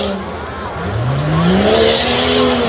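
The Chaotic Racing Jeep racing on a dirt track at Susquehanna, its engine loud and close, revving up with rising pitch as it powers through a corner, with a commentator's voice faintly underneath.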